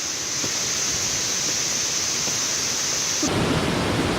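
Rushing water pours continuously at the top of the Sarasah waterfall at Ulu Gadut, a dense, loud, steady roar that swells slightly heavier near the end, with no voices.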